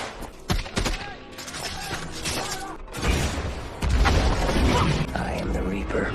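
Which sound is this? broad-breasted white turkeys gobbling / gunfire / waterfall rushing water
gunfire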